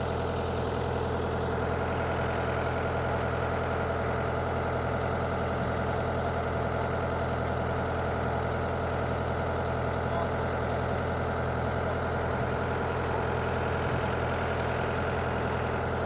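A Kobelco SK120 Mark 3 excavator engine idling at night, a continuous even diesel rumble held steady and close throughout with no change in pace.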